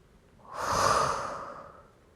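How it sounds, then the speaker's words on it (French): A single slow, deep breath swells and fades over about two seconds, close and soft, with no voice, as part of a calming relaxation exercise. "Une inspire ample et nécessaire à votre corps et une expire tout aussi libre"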